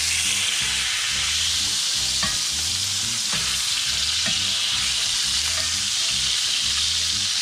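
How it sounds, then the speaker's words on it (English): A steak, already cooked sous vide, sears in a hot pan with a loud, steady sizzle and crackle that fills the whole stretch, with occasional sharper pops and scrapes over the continuous hiss. "We're just actually searing the outside"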